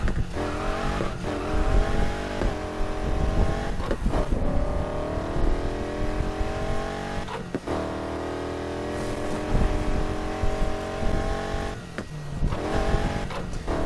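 A car in the racing game Need for Speed Heat drives hard, its engine revving and shifting through gears in rising, falling sweeps, loud and close with a few sharp breaks, with no talk over it.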